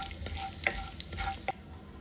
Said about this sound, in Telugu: తాలింపు గింజలు వేసుకోవాలి